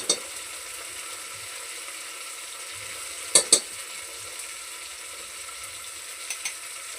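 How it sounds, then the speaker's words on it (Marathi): Onion and tomato cook with salt in a pan for chicken pulao, giving a soft, steady sizzle with a few brief clicks of a spoon against the pan. "आपल्याला कांदा टोमॅटो मस्त असा शिजून द्यायचा आहे."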